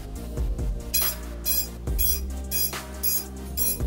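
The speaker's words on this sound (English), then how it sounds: "Okay, let's go check beeper." An FPV freestyle drone's onboard beeper sounding in a repeated pattern of short electronic beeps, roughly every half second, close and clear over a low background hum.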